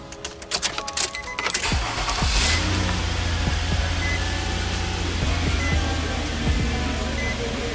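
A Nissan SUV engine idles with a steady low hum after a jangle of keys and a few clicks, holding constant and close throughout.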